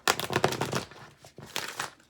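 An oracle card deck is shuffled by hand up close: two quiet bursts of papery riffling and crackling, separated by a brief pause.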